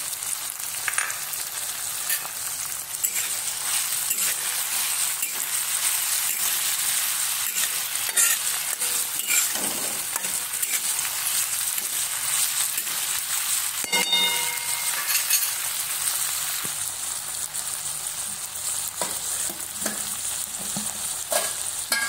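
Tomatoes and mixed vegetables fry in hot oil for Kathiyawadi vaghareli khichdi. A loud, continuous sizzle carries throughout, broken by scraping stirs and the occasional metallic clang of a spoon against the pot.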